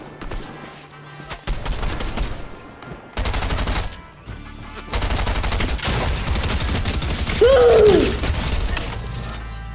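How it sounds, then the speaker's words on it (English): Gunfire in Fortnite Season 3 battle royale gameplay, several bursts of rapid shots and single cracks that come and go over about ten seconds, with brief quieter gaps and a short voice-like sweep near the end. "Where is he shooting from?"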